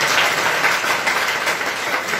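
A church congregation claps together during a Christmas sermon, a dense steady patter of many hands that carries on without a break and with no voices over it.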